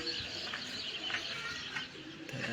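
A flock of racing pigeons being flown with a flag, with soft coos and chirps plus some wing flutter set against a steady outdoor hiss, fairly faint and continuous.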